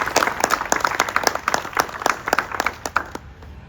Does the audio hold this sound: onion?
no